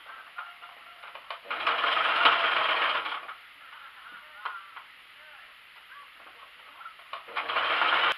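Sewing machine stitching hems on the sleeves of a blouse, two bursts of steady mechanical whirring, the first lasting about a second and a half, the second starting near the end, with quiet pauses between.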